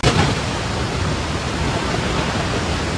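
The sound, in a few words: swollen river flowing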